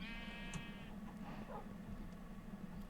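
A sheep in Minecraft bleats once with a clear, wavering cry at the start, then quiet farm-world ambience follows with a few faint clicks and no talk.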